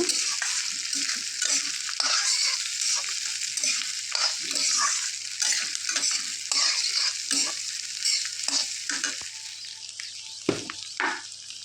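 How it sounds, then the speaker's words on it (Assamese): Cut chillies being stirred and fried in a dry, waterless pan for a chilli pickle. A steady close sizzle runs throughout, with repeated scraping stirs and a few louder knocks near the end. "কাটি থোৱা জ্বলাখিনি দি দিছোঁ"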